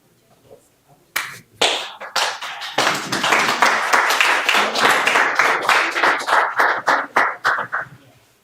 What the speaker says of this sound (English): Thank you for the slow clap